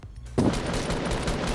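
Rapid gunfire in the Fortnite video game breaks out after a short quiet moment, a burst of quick overlapping shots rattling on steadily for about a second.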